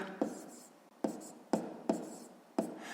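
Hand-writing out a math equation gives about five crisp strokes and taps spaced roughly half a second apart, close and quiet, with no speech.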